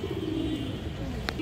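High-flyer pigeons coo softly on a farm, with a low, steady murmur close by and a brief chirp near the end, quiet and without speech.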